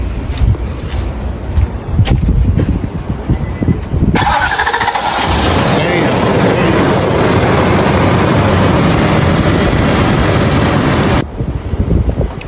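An SUV engine cranks and catches after a jump start from a Noco Boost Plus pack, then settles into a loud, steady idle close by for several seconds before cutting off.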